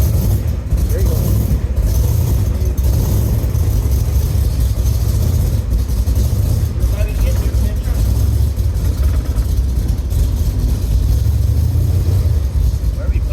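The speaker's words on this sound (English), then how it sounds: "just give it some gas and it'll roll." An old classic car engine runs loud and close with a heavy low rumble as gas is applied, people talking over it throughout.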